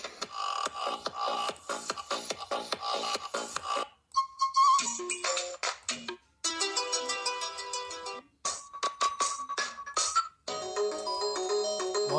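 Several mobile phone ringtones play one after another, each a short electronic tune or chime, separated by brief silences, close and clear.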